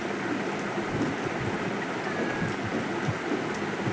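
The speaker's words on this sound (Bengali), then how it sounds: "এত জোরে বৃষ্টিটা হচ্ছে যে রাস্তা বেয়ে জল চলে যাচ্ছে। ঝমঝম করে বৃষ্টি হচ্ছে।" Heavy rain pours steadily on a street with water running along the road, a dense continuous wash of noise at even loudness throughout, with no voices.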